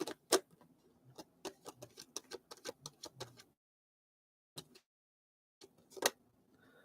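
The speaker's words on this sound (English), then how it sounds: "Let me shuffle this real quick." A deck of tarot cards is shuffled by hand, giving quick, close, soft ticking taps in bursts, a pause of near silence, then a few more flicks.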